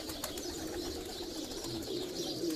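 Pigeons coo softly and steadily from a rooftop during a pigeon-flying tournament, with low murmuring calls and faint background noise throughout.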